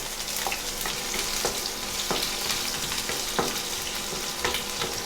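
Chopped shallots sizzle and fry in hot coconut oil with popping mustard seeds for a string bean thoran, a steady hissing crackle with occasional sharper pops and faint stirring, close and continuous with no voices.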